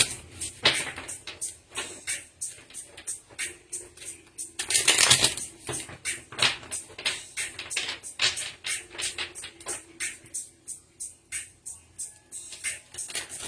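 Tarot cards shuffled by hand in a steady run of crisp riffling taps and slaps, close and fairly quiet, with one louder burst of handling midway and faint background music underneath.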